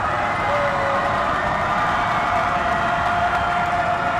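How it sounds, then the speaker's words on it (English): Loud, steady crowd roar fills a high school basketball gym during a district game between the LSHS Tigers and LSWHS Titans, a sustained dense wash of voices with no break as a player steps to the free-throw line. "I'll let the crowd take over."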